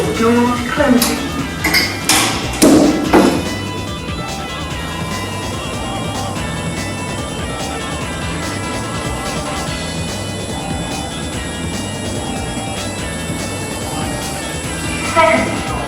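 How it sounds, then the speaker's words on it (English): Service lift in a shopping centre basement, one of a set of five, rides between floors: a few sharp metallic clanks and door thuds at the start, then a steady mechanical hum and rumble during travel, ending in another knock. "I go to a set of 5 service lifts. Let's ride it!"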